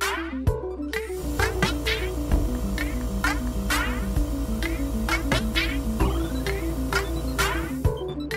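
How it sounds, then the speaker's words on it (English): A vacuum machine at a watchmaking bench, switched on with a foot pedal, drones with a loud, steady mechanical hum. A rhythmic pulsing runs under it, and sharp clicks and thumps cut in now and then across the whole stretch. "I have a foot pedal down here, and I'm gonna activate the vacuum."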